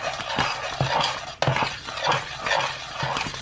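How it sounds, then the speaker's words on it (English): A whisk scrapes and beats through thick cornmeal mush in a pot, making rhythmic swishing strokes with light metallic clinks against the sides, roughly two strokes a second, close and fairly loud with no voice. "I'm using the whisk to break up some of the lumps now."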